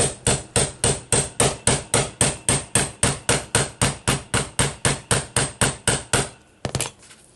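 A hammer strikes a crimper tool onto a dial part for a 1949 Silvertone 6293 car radio, with about twenty sharp, evenly spaced, close and loud metallic blows, then a brief scuffle of handling.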